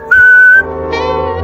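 A single steady, high whistled note held for about half a second, loud and clear, followed by a low murmur of background noise.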